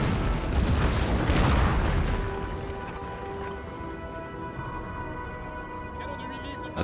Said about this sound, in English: heavy 12-pounder Spanish guns enter the action, bombarding the smaller enemy cannons that try to reach a firing position